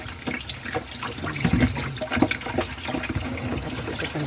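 Tap water runs and splashes into a clogged kitchen sink to wet and rinse away dirt, a steady close splashing stream with uneven gurgles and spatters throughout, no voices.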